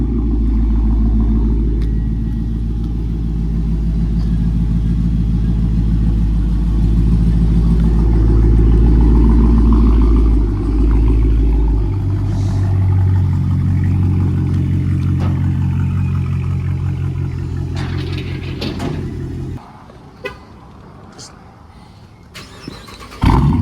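A Chrysler 300S fitted with 5-inch Carven exhaust tips rumbles and revs loudly nearby, a sustained low engine drone with shifting pitch that cuts off near the end, with people talking over it.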